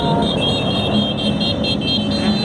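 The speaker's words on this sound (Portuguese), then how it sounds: "Ó, 3 minutos e não para de passar moto." A steady stream of motorcycles passes at Latin America's largest motorcycle meet in Brasília, engines droning loud and continuous with a high whine, close by and without pause.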